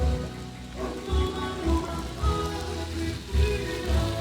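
Rain falling on a sun shelter set up beside a new grill, a steady close patter with occasional heavier drops thudding on the cover, no talking.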